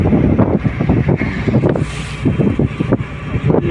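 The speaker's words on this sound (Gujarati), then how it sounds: "વાવડો મોજો અત્યારે ભાઈ વધી ગયો છે બહુ" Strong gusting wind buffets a fishing boat at sea, with rushing wind noise and waves splashing against the hull, loud and continuous with no voices.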